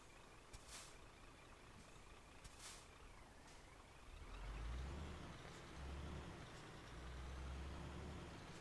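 A truck engine in Euro Truck Simulator 2 starts up partway through and idles with a deep, steady rumble, after a few sharp hissing bursts over quiet background noise.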